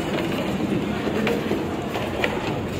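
A train at Barrackpore station rumbles steadily with rolling wheel clatter and faint clicks, close by and continuous with no voices.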